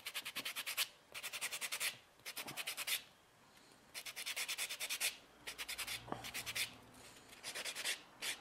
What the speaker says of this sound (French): Je vais poncer légèrement le dessus de mon ongle.